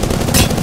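A brief, loud burst of rapid video-game gunfire, close and dense, lasting under a second.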